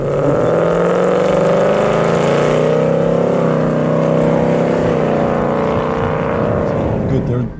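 The V8 exhaust of a 2018 Ford Mustang GT Convertible rumbles steadily and loudly up close on a cold day, a throaty, constant burble throughout.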